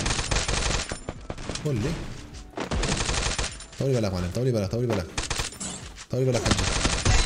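SMG bursts in Free Fire, loud rapid automatic gunfire in several bursts separated by short pauses, with someone talking in between and over the shooting.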